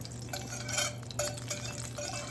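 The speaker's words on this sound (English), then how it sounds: "Anyway, I like using a whisk." A whisk scrapes and clinks rhythmically against a pan while flour toasts for southern gravy, with a low steady hum underneath and a faint sizzle.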